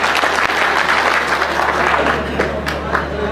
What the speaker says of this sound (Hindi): एक बार इनका सम्मान में ताली बजाइए